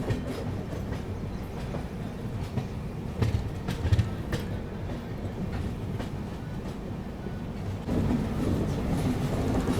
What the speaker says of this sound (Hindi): देखो पूरी ट्रेन लेफ्ट साइड में मुड़ रही है